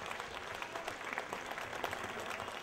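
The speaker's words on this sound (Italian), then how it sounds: "fatemi un applauso" Audience applause in a comedy show studio, a dense steady wash of many hands clapping at moderate level, continuous for a few seconds with no speech over it.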